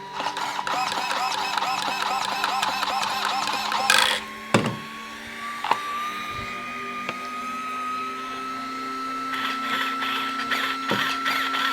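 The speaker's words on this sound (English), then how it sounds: "Remember that there is another cooling fan here, which is very good indeed." A blue carbon fiber Rlaarlo AK-917 RC car, a 125 mph model, whirs with its electric motor and cooling fan, giving a steady high whine that climbs in pitch, broken by a few sharp clicks and knocks.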